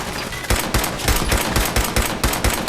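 Rapid automatic gunfire in the Fallout 4 video game rattles out in steady repeated bursts, loud and close, with no talk over it.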